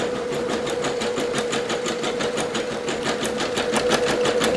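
A Singer Legacy SE-300 embroidery machine stitching a design into a fleece hoodie, a fast even mechanical clatter of needle strokes in a steady rhythm, close and loud with no talking.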